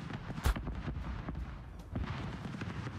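Gunfire in the Ark survival video game, with a sharp shot near the start followed by a dense, continuous rumble of game sounds and scattered further shots at moderate loudness.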